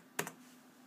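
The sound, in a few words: keys pressed on Logitech K120 USB keyboard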